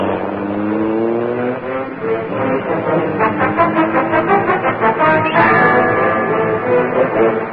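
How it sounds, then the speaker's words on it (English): Engine of the Black Beauty, a car in a Green Hornet radio drama, roaring to life: a loud, rising rumble that swells into a steady pulsing drone and holds close and strong throughout, with no talk. "The great car roared into life."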